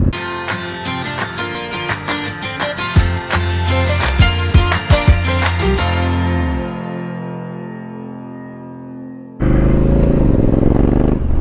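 A Honda Africa Twin motorcycle on a commute ride, with a loud, steady engine drone and harsh harmonic hum that drops away as the bike slows, then a burst of wind rush.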